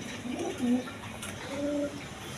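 Pigeons coo in a few short, soft throaty phrases close by, a pause between them, over a faint steady background.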